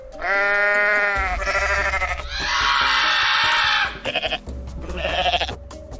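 Goat in the Goat Simulator video game lets out a series of loud, harsh, strained bleating screams, several long cries broken by short stuttering bursts.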